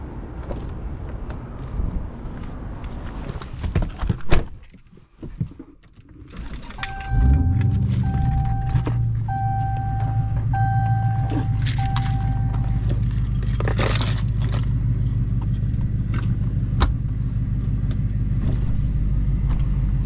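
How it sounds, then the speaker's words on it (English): A Dodge Challenger SRT Hellcat starts up after a rattle of keys and some cabin handling, then settles into a deep, steady engine rumble at night with a chime beeping repeatedly during the first seconds of running. "let's take the Hellcat SRT Challenger for a night ride."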